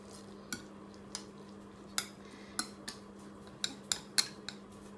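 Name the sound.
stirring omelette mixture in bowl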